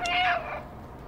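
A single short cat meow from the video game Stray, clear and close, rising then falling, fading into quiet background noise.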